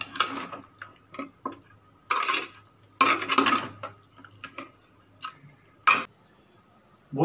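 Marinated chicken for chilli chicken being mixed in a pan, with repeated bursts of utensil scraping and clinking against the metal at an uneven rhythm, close and fairly loud.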